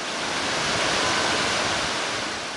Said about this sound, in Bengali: একের পর এক বিশাল বিশাল ঢেউ আছড়ে পড়ছে কক্সবাজার সৈকতের ঝাবন ও বালুভর্তি জিউব্যাগে